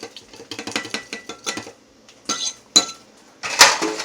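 Utensil clinking against a bowl or pan while cracked pepper is mixed into eggs, a loose run of short metallic taps and scrapes, close and moderately loud, with pauses and a sharper clatter near the end.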